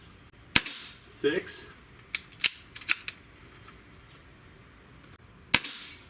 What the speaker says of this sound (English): I'm going to shoot them both.